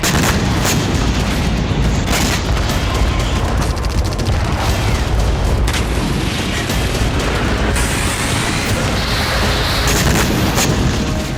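Heavy booms and blasts from missile and drone strikes in a war zone roll continuously, loud and rumbling, with crackling bursts layered over a dense roar.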